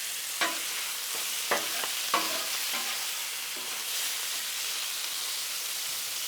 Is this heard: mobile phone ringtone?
no